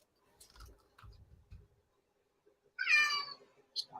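A cat lets out a single clear meow partway through, loud and close, following a few soft low thumps and quiet shuffling, with a brief short chirp at the end.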